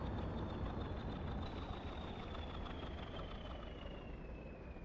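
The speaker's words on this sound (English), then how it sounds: "It is such a noisy engine." LMS diesel locomotive engine running in Train Sim Classic, a steady, fairly quiet low rumble with a throbbing drone and a thin high whine sliding slowly downward, heard alone without talk.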